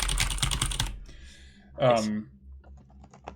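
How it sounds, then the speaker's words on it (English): A very loud computer keyboard clatters with rapid typing for about a second, then stops as a brief voice and faint background sounds follow. "While the tapping and tapping and tapping of a very loud keyboard goes on."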